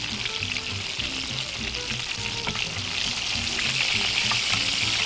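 Keema kebabs frying in oil in a pan give a loud, steady hissing sizzle that builds slightly toward the end, with a faint low rhythmic rumble underneath and no voices.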